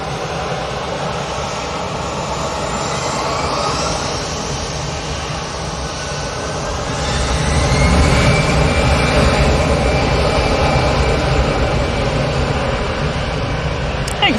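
EasyJet airliner departing Manchester Airport, a loud continuous jet roar that swells and grows louder midway and stays strong to the end, with a rising whine.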